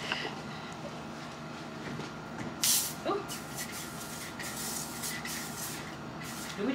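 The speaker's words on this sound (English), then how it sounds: "So now I'm gonna use her little Lysol to spray her bed." Lysol disinfectant spray from an aerosol can hissing in a short burst onto a bed, close and fairly loud, over a quiet room with faint background rumble.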